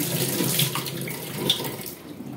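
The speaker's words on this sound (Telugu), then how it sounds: "ఇప్పుడు నుంచి ఒకసారి కడిగేస్తాను." Running tap water splashes steadily over grated carrot and mango being washed in a kitchen, a soft, close, continuous hiss with no talking.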